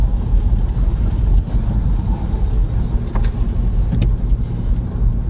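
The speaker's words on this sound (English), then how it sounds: "You're probably not going to hear anything I'm saying, because obviously we're driving with the roof down." A 1999 Porsche Boxster 986 with the 2.5-litre engine and tiptronic gearbox drives with the roof down, a loud, steady road and engine rumble mixed with heavy wind buffeting and a few brief clicks, with no voices.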